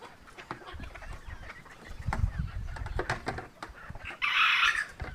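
Chickens cluck and squawk close by in short, uneven bursts, with one louder, shrill outburst near the end over faint background noise.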